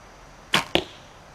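Two sharp arrow releases from a 1982 archery bow, a quick pair of loud close snaps about a quarter-second apart in an otherwise quiet outdoor setting.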